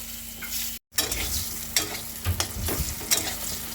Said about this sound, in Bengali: পটলটা ভাজছি